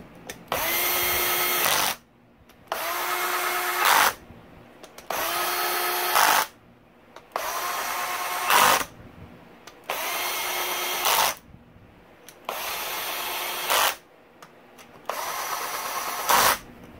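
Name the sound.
power tool tightening bolts around Yamaha YZ125 crankshaft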